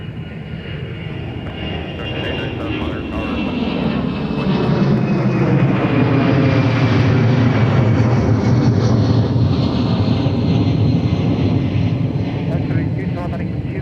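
A Boeing 757-200 jet takes off from MSP airport, a loud, steady engine roar that swells and holds with a rising whine, heard from the field. Radio chatter is faintly mixed in.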